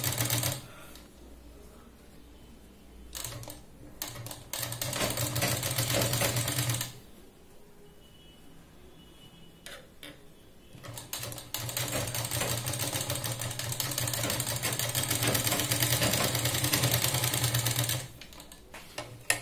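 A sewing machine stitching a blouse sleeve runs in long steady buzzing stretches, pausing briefly between runs, close and fairly loud with no speech.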